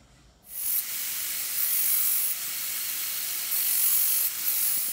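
Deburring tool rasping along the cut edge of a metal diesel heater mounting plate, a steady close scraping hiss lasting several seconds with slight surges.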